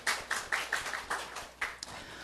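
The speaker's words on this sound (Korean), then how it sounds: "우리 하나님께 박수 올려드려요." A church congregation claps together during a Korean worship service, a brief burst of close, overlapping handclaps in an uneven rhythm at moderate volume, with no talking over it.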